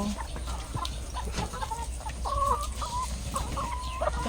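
Chickens cluck over steady farm background noise in a laying-hen house, with scattered short calls that rise and fall at moderate loudness, one a longer drawn-out cackle.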